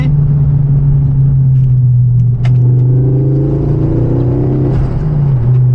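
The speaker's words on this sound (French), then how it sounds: "Et les bruits, le son de la voiture est vraiment génial." A Ford Focus RS 500 engine drones steadily up close, its pitch climbing and falling as it revs, with no voices over it.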